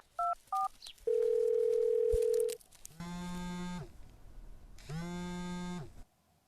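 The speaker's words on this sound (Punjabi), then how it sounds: "ਚੱਲ ਮੈਂ ਕਰਦਾ ਪਿੰਦਰ ਨੂੰ ਫੋਨ" A telephone call is placed: several short touch-tone beeps, then a long steady tone, followed by two loud ringback bursts separated by a pause, with no voices.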